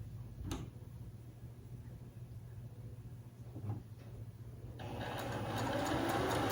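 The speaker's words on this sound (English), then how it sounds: "Just sewing these babies right on up." A sewing machine stitches quilt pieces together, running as a steady low mechanical hum with a few faint clicks, then growing louder and busier near the end.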